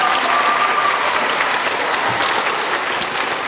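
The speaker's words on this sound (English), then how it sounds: "I saw a bunch of little ones cheering for him" Young children at a school event cheer and clap for a fifth-grade student, a dense, steady wash of applause lasting throughout at moderate loudness.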